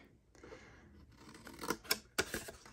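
Scissors trim paper while a gift tag topper for a treat box is made: a few sharp snips arrive near the end after soft rustling and handling, close and fairly quiet.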